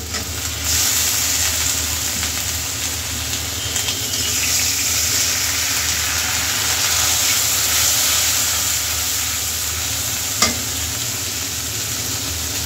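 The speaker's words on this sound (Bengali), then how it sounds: "এবার আদা রসুন বাটাটা দিয়ে দেবো" Ginger garlic paste fries in a pan of onions and chillies, a loud continuous sizzle and hiss holding steady throughout, with one brief sharp tap near the end.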